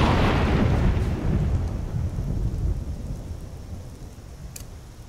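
Steady heavy rain in the video game Skyrim, with a deep rumble of thunder rolling at the start, fading into continuous rainfall.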